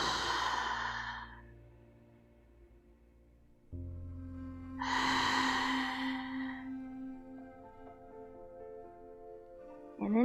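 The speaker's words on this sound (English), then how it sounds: "Perhaps taking a few belly breaths in and exhales through the mouth." Two slow, soft exhales through the mouth during belly breathing in a quiet yoga session, each a breathy whoosh a few seconds apart, with faint background hum between them.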